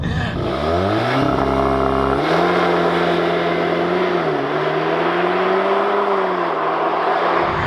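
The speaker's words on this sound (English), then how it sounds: "God, it surges into each gear" A VW MK8 Golf R launches hard under launch control, its engine note climbing steadily and surging through each upshift, loud and close for the whole stretch with no talking.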